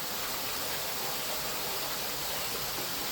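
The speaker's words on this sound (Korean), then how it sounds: "입구에서 왼쪽으로 조금 걸어가면 동굴 벽천을 만나게 되는데요." Artificial cave waterfall inside the Supia lake botanical garden, a steady, dense rush of falling water that stays loud and even throughout, with no voices.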